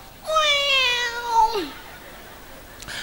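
A voice imitates a cat meowing, one drawn-out rising and falling meow lasting over a second, loud and close, followed by quiet.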